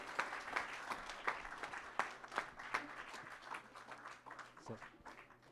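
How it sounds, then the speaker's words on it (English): Audience applause after a classical performance at an anniversary celebration, a steady run of sharp overlapping claps with clear individual hand strikes, moderately close and fading slightly toward the end. "Big round of applause."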